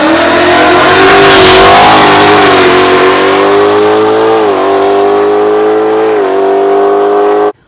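A boosted 2018 Mustang GT with a VMP supercharger, the Black Mamba, revs loud and close, its engine note rising and falling steadily before cutting off abruptly.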